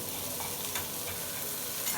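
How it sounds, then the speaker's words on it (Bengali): Chopped onion frying and being stirred in a pan makes a continuous close, bright sizzle with faint scraping from stirring and no speech. "এই পেঁয়াজ কুচি দিয়ে দিচ্ছি"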